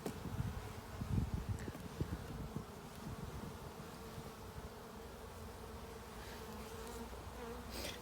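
Honeybees hum and buzz steadily around open beehives during an inspection, a dense, fairly quiet drone with individual bees passing close by more loudly in the first couple of seconds.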